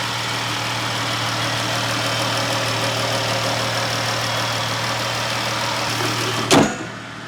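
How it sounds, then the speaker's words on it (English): A Chrysler 300's engine idles steadily under the hood shortly after a cold start, a continuous low hum with a constant tone, heard up close until a brief thump near the end before it quiets. "That was a really clean cold start, but how does it actually sound under the hood here?"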